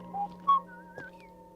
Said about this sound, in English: went off, whistling a tune